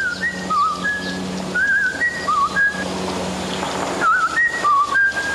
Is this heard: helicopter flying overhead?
no